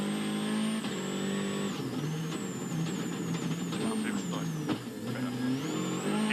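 A WRC rally car storms through the hairpins of the Monte Carlo rally, handbrake in use, its engine revving up and dropping repeatedly with loud, close, continuous roar and brief tyre scrabble.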